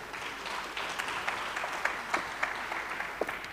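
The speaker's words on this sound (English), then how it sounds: "Keep the clapping going, please," Steady applause from a health forum audience welcoming a speaker to the stage, many hands clapping together continuously, with a few sharper claps standing out.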